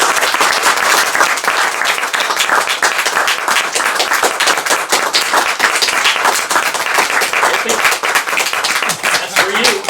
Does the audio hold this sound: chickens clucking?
no